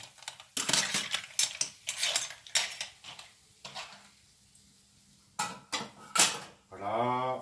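Pork and clams being stirred in a cooking pot, giving scattered clinks and scrapes of utensil on metal and shells in irregular bursts, with a brief quiet gap midway and a soft hum near the end.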